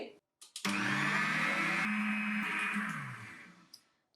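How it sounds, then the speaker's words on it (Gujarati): A stand mixer beating lentil batter starts up and whirs steadily for a few seconds with a churning, whining tone, then winds down and stops. "તો સ્ટેન્ડ મિક્સરમાં તમારે દાળને ફક્ત બે મિનિટ માટે જ ફેટવાની છે"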